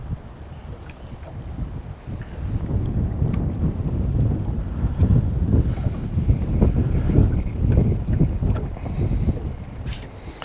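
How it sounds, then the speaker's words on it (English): Wind buffets a microphone on a fishing boat on the water, a steady rumbling roar that swells and gusts throughout, with no voices. "That wind is a little tough, but not too bad."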